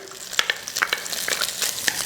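Green chile sizzles and crackles in a hot skillet, with scattered pops and spits over a steady frying hiss.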